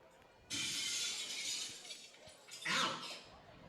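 A hard foul ball at a baseball game between Champion City and Butler strikes a parked car, bursting glass in a loud sudden shatter followed by a second crash of falling shards a couple of seconds later.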